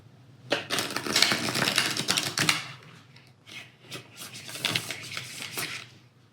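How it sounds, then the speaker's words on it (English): Tarot cards being reshuffled by hand, a run of crisp riffling and rubbing bursts, a short pause, then another stretch of shuffling, close and fairly quiet. "I will just reshuffle my deck in order to make sure that the cards are mixed good"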